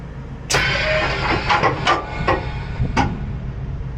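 Air-operated tandem slider pins on a semi trailer releasing with a sharp pneumatic burst, then a cluster of quick hissing clunks and one more loud release, all close and metallic over a steady background rumble.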